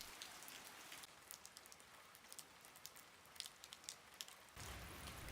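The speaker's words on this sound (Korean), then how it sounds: "날씨가 흐리더니 결국 비가 오기 시작한다." Steady rain falling in the countryside, a dense even patter with a few louder drops standing out, growing heavier and fuller toward the end.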